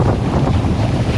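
Strong wind gusts buffet the microphone beside a river, a loud, continuous roaring rumble with no voices.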